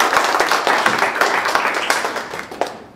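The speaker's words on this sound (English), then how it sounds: "that deserves an applause" Audience applause closing a talk at a Kubernetes tech session, a dense, steady patter of many hands clapping nearby that tapers off toward the end.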